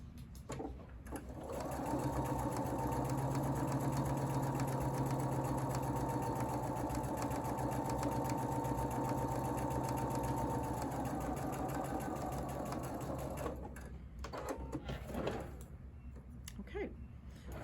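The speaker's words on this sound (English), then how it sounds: "I have sewn on both sides of the mark line" A sewing machine runs a long, steady stitching pass along a marked line on a quilt sampler block, whirring evenly for about twelve seconds, with brief start-up and stop noises before and after.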